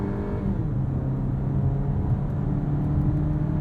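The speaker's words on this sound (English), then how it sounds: "Let's see if sport mode changes the sound of the engine at all." Steady engine and road drone from inside a 2022 Volkswagen Tiguan SEL R-Line AWD with an 8-speed automatic, driven in sport mode, a constant low hum with no clear revving and no talk.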